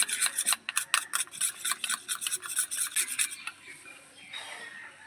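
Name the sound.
stirring coconut oil mixture for skin pack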